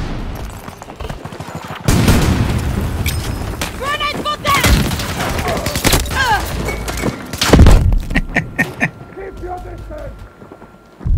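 A grenade blast in Battlefield 2042 on the Caspian Border map in hardcore mode: a loud, close thump lands amid scattered gunfire and rumbling battle noise, with players talking over the mix.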